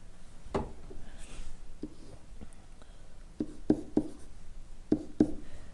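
A pen scratches out a math equation in short strokes and sharp taps, close and quiet, with irregular pauses between the marks.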